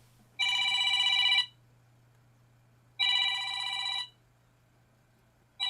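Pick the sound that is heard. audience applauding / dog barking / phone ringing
phone ringing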